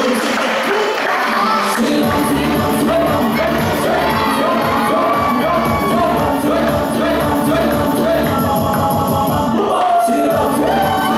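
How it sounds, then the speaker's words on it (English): Audience at a school cultural show for Samoan Language Week cheers and shouts loudly and continuously, with children's voices and whoops over a steady musical beat throughout. "Round of applause for a beautiful"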